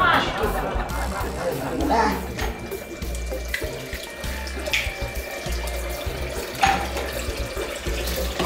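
Water runs from a tap into a sink in steady splashing streams, close by, while people chatter and call out over it.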